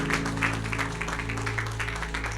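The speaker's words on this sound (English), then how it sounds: "big round of applause for Isaac Kakone" An audience at an evening event gives a big round of applause for a speaker, steady dense clapping throughout, moderately loud and filling the room with no talking over it.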